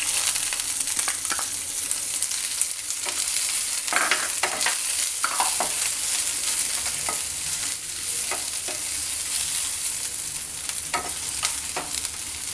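Onion, garlic and ginger fry in oil for spring rolls, a steady close sizzle broken by scraping stirs and clinks of a spoon against the pan, with no voices.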